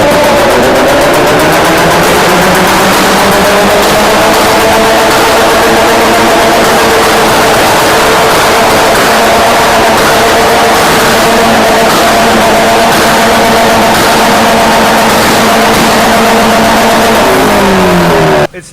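A heavily modified Honda City engine revs loud and close, holding a sustained roaring, buzzing drone for nearly twenty seconds with slight pitch shifts and no talking.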